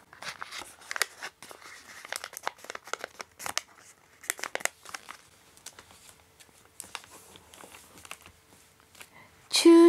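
Paper origami sheet being creased and folded into a diamond shape for an ogre face, with close crinkles and soft taps in irregular bursts, then a brief louder rustle at the end.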